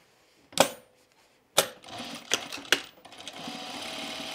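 A sewing machine stitches pajama bottoms in short bursts: a sharp clack, a pause, then several quick runs of close mechanical whirring and clicking that settle into a steadier hum.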